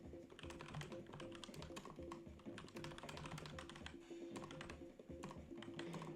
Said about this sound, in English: now I'm typing that into Grok